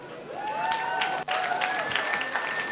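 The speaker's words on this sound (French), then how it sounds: "Est-ce qu'on peut applaudir très fort pour le discours de maman marraine?" A wedding party crowd gives steady, sustained applause for the godmother's speech at a dancing reception, a dense clapping wash with a brief dip midway and faint voices and cheers mixed in.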